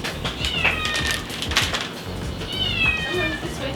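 A house cat meows twice, a drawn-out cry near the start and another about two-thirds through, fairly close and clear over a steady background hum.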